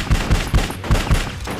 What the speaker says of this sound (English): That can happen when people fire their damn guns at each other!